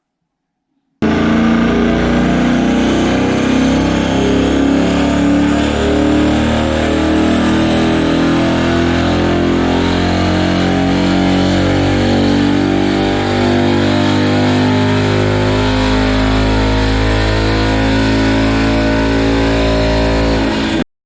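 On a dyno, a stock 2019 Ford Mustang GT runs a long, loud, sustained pull lasting about twenty seconds, the engine tone rising gradually and steadily before stopping sharply, with no one speaking.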